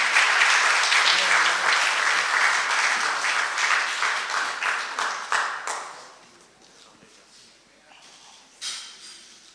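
An audience at a literary award ceremony breaks into loud sustained applause, clapping steadily for several seconds before it thins out and fades to a few scattered claps.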